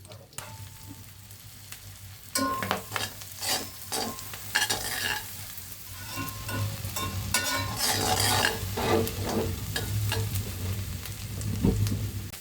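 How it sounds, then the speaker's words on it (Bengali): Onions sizzle steadily in hot oil while a spatula scrapes and stirs the pan in repeated clattering strokes, close by. "আমার পেঁয়াজটা ভাজা ভাজা হয়ে গেছে।"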